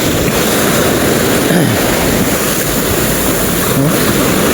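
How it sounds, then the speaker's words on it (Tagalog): Continuous surf noise from the sea near Maasin City, modest waves rolling in under gusts of wind on the microphone, with no one speaking. "Pero may alon pa din."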